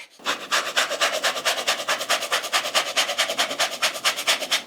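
A zester scrapes rapidly and rhythmically across citrus peel in a home kitchen, a close, steady rasping of even strokes.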